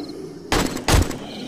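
Two sharp, loud gunshot blasts go off in quick succession in the video game 7 Days to Die, close and punchy, with a brief ringing tail after each.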